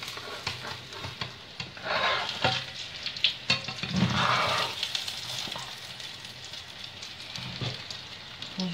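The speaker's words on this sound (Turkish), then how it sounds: "Patatesimiz kızardı." Potatoes frying in a pan give a steady, close sizzle and crackle with a few louder spits and stirring scrapes, while someone talks intermittently over it.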